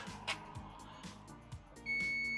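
Faint electronic beeps chirp at irregular intervals from a Segway P100SU electric scooter's anti-theft alarm, then a sustained high-pitched alarm tone starts and holds, quiet and somewhat distant.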